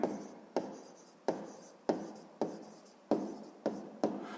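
Pen or pencil writing out a math answer by hand, with eight quick separate strokes in a steady rhythm, close and fairly quiet with no talking.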